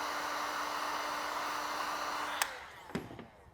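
A heat gun blows steadily while warming vinyl wrap on a Cybertruck, a broad constant airy roar that cuts off abruptly, followed by a few faint knocks and handling sounds.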